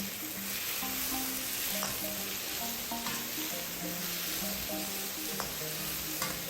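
Marinated prawns sauteing in a wok, a steady bright sizzle with occasional clinks and scrapes of stirring, quiet background music tones beneath, close and even throughout without speech.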